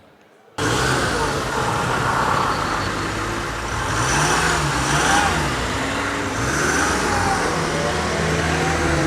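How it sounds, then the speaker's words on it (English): A combustion-engine car accelerates through city traffic, its engine rising and falling in pitch through repeated revving sweeps, loud and close against a steady roar of surrounding noise. "So at first we hear the combustion engine."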